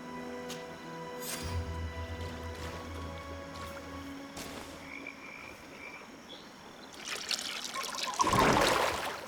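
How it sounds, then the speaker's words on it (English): Potion poured onto an altar in the fantasy game Greedfall: a soft liquid trickle and splash swells near the end over a low, humming ambient background with occasional faint tones. "That must be where we need to pour the potion."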